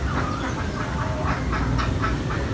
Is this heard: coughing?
no